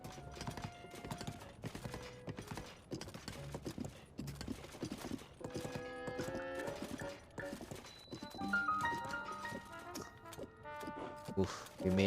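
Horse hooves clip-clop at a steady gallop-like rhythm in Zelda: Tears of the Kingdom, mixed with game music and occasional whinnies while someone talks over it.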